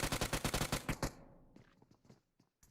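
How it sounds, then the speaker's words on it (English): Gunfire in a PUBG Mobile esports scrim match on the Sanhok map: a rapid burst of about eight loud automatic shots rings out, then a few fainter distant shots follow through the fading echo. "Pre-fire shots coming through."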